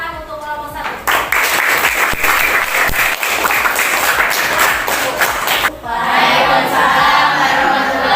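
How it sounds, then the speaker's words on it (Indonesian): Classroom students applaud group 1 during an academic supervision session. Clapping swells in suddenly after a moment, continues amid voices and chatter, then gives way to talk. "beri tepuk tangan untuk kelompok 1"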